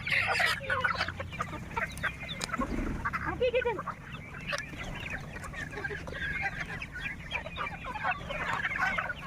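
Several chickens cluck and murmur close by, with scattered short calls over a low background rumble.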